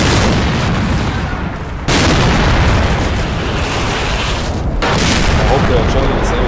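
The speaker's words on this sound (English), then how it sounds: "Javelin firing." A Javelin missile fires in a military combat video game with US Marines, a loud sustained roaring blast that cuts out briefly and resumes, with voices mixed under the din.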